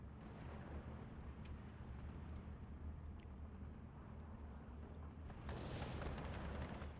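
Artillery fire in the Steel Division 2 wartime strategy game, a low continuous rumble of distant shelling with scattered booms, swelling into a louder, brighter burst near the end, with no talking.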